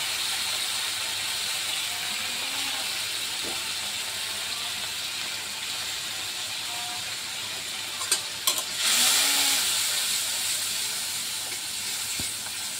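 Ground turmeric, cumin and chili powder sizzling in a pan after a splash of water, a soft, steady hiss with brief scrapes and a louder steamy burst near the end, close and without speech.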